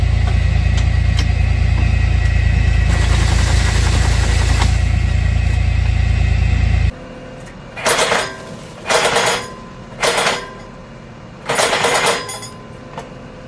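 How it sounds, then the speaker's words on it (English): A tractor engine drones steadily, then cuts to four separate bursts of rattling, clattering shaking with short pauses between them as a harvester clamps an apple tree trunk and shakes it. "These tractor-mounted harvesters clamp onto the trunk and give it a vigorous shake"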